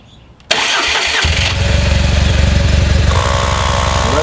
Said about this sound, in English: And we'll start the motor.